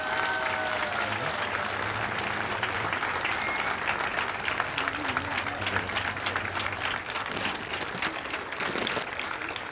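A studio audience at a televised award presentation breaks into sustained, dense clapping that stays loud throughout, with faint crowd murmur and a bit of music beneath.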